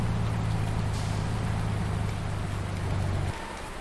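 Steady rain on a farm in a roleplay farming game, a continuous loud hiss of falling drops with a low engine hum underneath that cuts off near the end, no voices.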